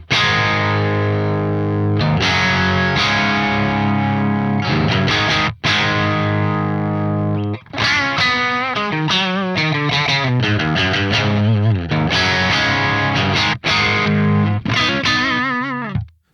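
A Fender Stratocaster played through a real Soldano SLO100 amp on its crunch channel rings out with distorted chords and single-note runs, strummed and picked continuously for about sixteen seconds with no talking.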